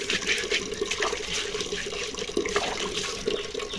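A clay water filter from an earthenware water cooler is rinsed under running tap water, a steady close splashing hiss that stays loud and even throughout with small surges.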